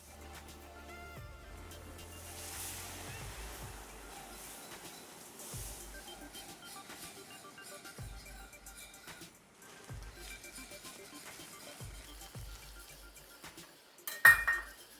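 Sauce being mixed in a pan after boiling water is added, with faint metallic clinks and scrapes of a utensil against the pan at irregular intervals and a louder clatter near the end, heard alone and quiet.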